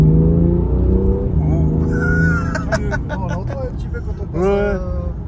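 A BMW M2 Competition engine rumbles steadily from inside the car while driving, its low drone rising and falling as it passes, beneath people talking nearby.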